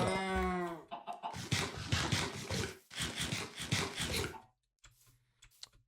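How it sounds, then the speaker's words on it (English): Several Minecraft cow moos sound in quick succession, fairly close and loud, followed by a short quiet stretch with faint clicks. "Plus the cows in Minecraft continually spawning."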